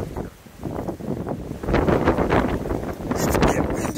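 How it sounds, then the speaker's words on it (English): Wind gusting outdoors at a rest stop, buffeting the microphone in rough bursts that grow louder and more constant toward the end. "It's getting windy."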